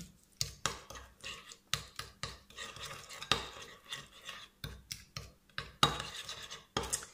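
A grainy homemade body scrub is stirred in a bowl with a spoon, giving repeated scraping, gritty swishes at an irregular rhythm. Each stroke sounds soft and close, with no voices.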